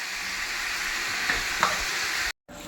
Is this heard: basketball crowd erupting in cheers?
no